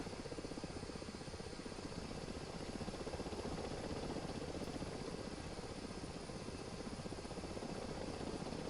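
A helicopter in a video game mission roars continuously with a steady rotor chop and engine drone, holding an even, fairly loud level throughout with no talking.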